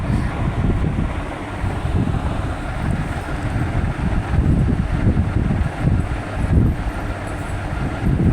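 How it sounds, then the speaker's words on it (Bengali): Steady outdoor wind rumbling and buffeting against the microphone, loud and continuous with gusty swells, no voices present. "এত সুন্দর হাওয়া দিচ্ছে"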